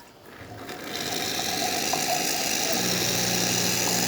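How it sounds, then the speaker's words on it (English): An Isomac E-61 espresso machine's pump kicks on while dispensing hot water, a steady loud mechanical hum and hiss that builds in the first second and holds continuously, with no talk. "once you hit the hot water and you hear the pump kick on"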